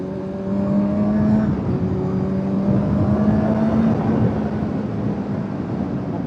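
A Kawasaki Z900 motorcycle accelerates hard on an open road stretch, its engine rising steadily in pitch through the gears with loud, continuous wind and motor roar and no talking.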